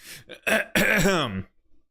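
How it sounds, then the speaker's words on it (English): A person clears their throat up close, a short rough burst followed by a longer gravelly rumble, then quiet. "I clear my throat."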